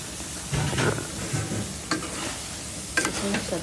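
Mixed vegetables with prawns fry in a pan, a steady sizzle broken by several scraping stirs and clattering spatula strokes at irregular intervals.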